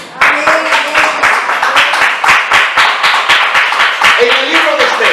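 Church congregation clapping in loose rhythm during a Spanish-language sermon, the sharp claps steady and fairly loud, with voices calling out over them.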